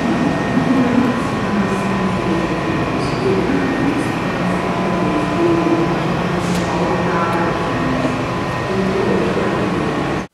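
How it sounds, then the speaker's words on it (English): Steady roar and hum of a subway train in an underground station in DC, continuous and fairly loud throughout with faint squeals and rumbling, no voices. "Here's a video I took while I was stuck underground waiting for the train."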